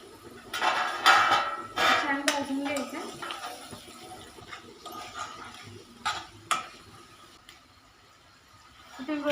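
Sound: green chillies being added to oil in pan

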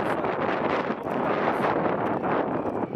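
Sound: strong wind blowing

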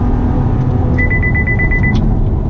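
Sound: 2019 Chevy Camaro RS engine accelerating

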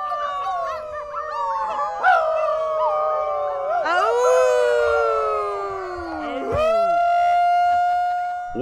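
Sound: group of people howling together outdoors

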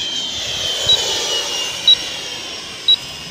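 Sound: Freewing F/A-18E RC jet flying on 3S battery

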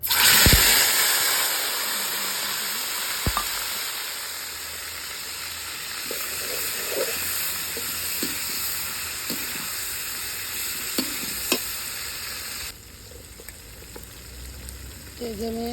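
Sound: ginger, onion and garlic frying in oil

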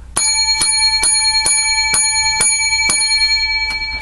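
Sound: seven bells rung for the show

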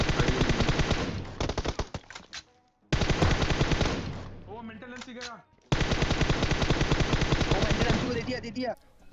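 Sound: AWM sniper rifle gunfire in PUBG Mobile video game

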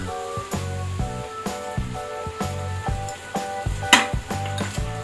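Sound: soaked flattened rice (chire) sizzling in pan

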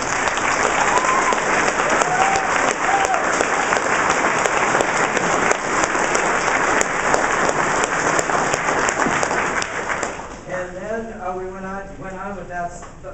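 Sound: audience applause at a school concert

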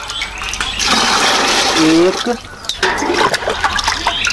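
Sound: cold water poured into lime mixture

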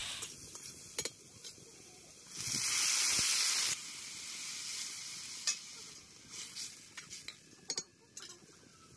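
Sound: young jackfruit and potatoes being sautéed in a pan

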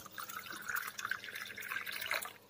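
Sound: water being poured for cooking ghee rice

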